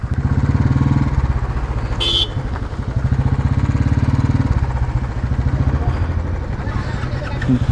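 Motorcycles and taxis idling in a road traffic jam, a loud close engine chug running steadily with a brief high horn-like tone partway through.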